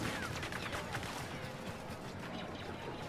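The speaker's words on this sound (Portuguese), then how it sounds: "De onde tá vindo o tiro, mano?" Rapid gunfire from the Star Wars Battlefront 2 video game, a dense run of crackling shots layered over a wash of battle noise, steady and fairly loud throughout.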